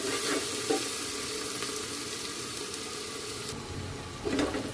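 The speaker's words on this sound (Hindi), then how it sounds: "लो फ्लेम पे हमें इसे पकाना है, वरना हमारे लहसुन और अदरक जलने लगेंगे।" Garlic and ginger frying in oil over a low flame while cooking vegetable biryani in a pressure cooker; a soft, steady sizzle hisses close by, with a couple of faint stirring scrapes and no talking.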